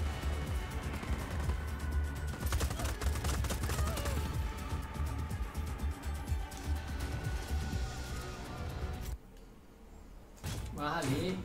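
Rapid bursts of gunfire crackle almost continuously in a Just Cause game firefight, briefly dropping away near the end before resuming, with voices talking over the action.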